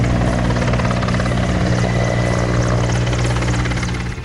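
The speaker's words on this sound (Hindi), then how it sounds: "उत्तर से दक्षिण और पूर्व से पश्चिम हर तरफ वायुसेना के विमान अस्पतालों पर पुष्प वर्षा करने लगे।" Indian Air Force aircraft fly low overhead during a flower-shower flypast over hospitals, producing a loud, continuous engine roar with a throbbing rotor-like beat that holds steady before easing slightly at the end.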